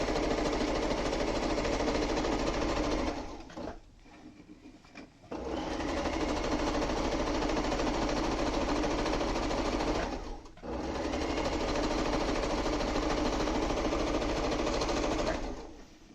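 A sewing machine stitches quilt pieces in long, fast, steady runs of rapid needle clatter, stopping briefly twice before starting up again; close and even in level, with no talking.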